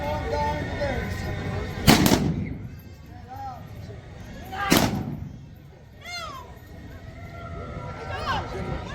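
Two loud, sharp gunshots crack about three seconds apart during an O.K. Corral gunfight reenactment, each followed by a reverberating tail, with voices talking in between.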